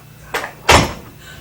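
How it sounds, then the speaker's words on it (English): An indoor door is shut with a fairly loud thud, preceded by a softer knock or latch sound, close by with no talking. "Shut the door, Daisy, please."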